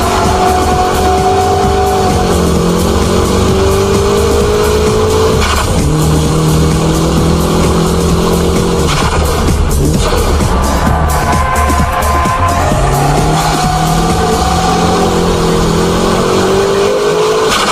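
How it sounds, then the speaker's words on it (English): A car drifts at high speed with a loud, continuous engine roar. The pitch rises and falls through revving and gear changes, with tire noise mixed in and no voices. "With the high-speed drifting, traction recovery is very quick,"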